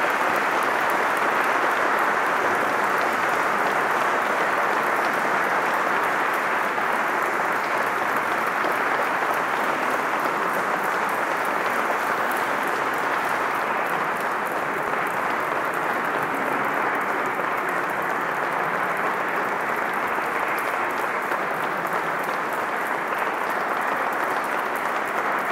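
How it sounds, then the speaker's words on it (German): A large audience at a German mobility forum claps warmly and steadily after a talk on the Ghent example. The dense applause holds at the same loudness throughout, with no voices over it. "Vielen herzlichen Dank für diesen warmen Applaus"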